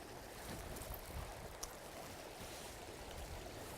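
Gentle water laps softly at the shore of Waharau Regional Park on a calm day, a faint, steady wash of low splashes with an occasional small ripple, no voices.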